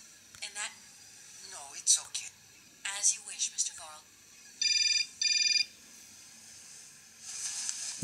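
A telephone call rings in the game Syberia, played on an Android tablet: two short, bright electronic ring bursts in quick succession follow a stretch of spoken commentary.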